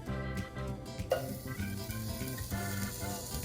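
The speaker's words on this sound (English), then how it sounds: "Okay, that sizzling. Isn't that a pretty sound?" Chunks of andouille sausage sizzle and crackle steadily in a hot pan, close by, with a faint background tone and no talking.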